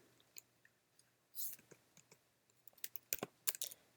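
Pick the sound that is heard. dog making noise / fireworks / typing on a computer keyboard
typing on a computer keyboard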